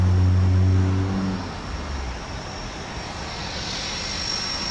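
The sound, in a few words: Convair CV 5800 airplane passing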